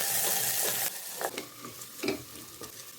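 Onion and green chilli sauté in oil and ghee, a strong sizzle that fades as a spoon scrapes and stirs the pan in a few distinct strokes.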